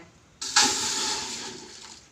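Water pours and splashes steadily over sun-dried vegetable pieces (brinjal, mango and okra vathal) being washed, starting abruptly and continuing as a loud, continuous rush with no talk.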